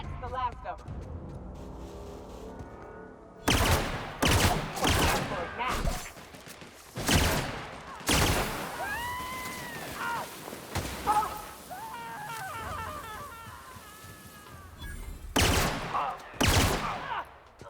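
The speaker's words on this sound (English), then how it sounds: "Returning fire!" Gunfire in the video game The Outer Worlds comes in several loud bursts of rapid shots separated by brief lulls, mixed with whooshing effects and occasional voices in between.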